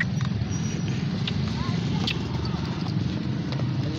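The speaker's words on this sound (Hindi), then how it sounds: "चाल वगैरह भी तुसी देखो घोड़ी दी" A mare walks with steady, rhythmic hoof clip-clops under a low continuous rumble, while voices murmur in the background.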